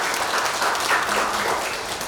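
An audience at an 80th Liberation Day ceremony applauds a speaker, a dense, steady wash of many hands clapping at moderate distance with no speech over it.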